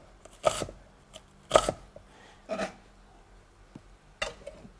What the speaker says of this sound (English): Hold your blade firmly and slice in that motion